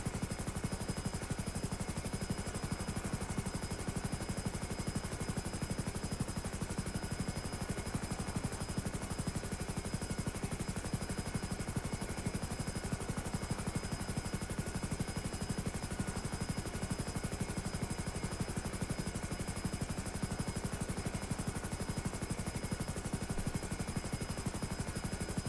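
Helicopter flying at speed over a city, its rotor and engine noise a steady, loud, continuous drone throughout with no talk.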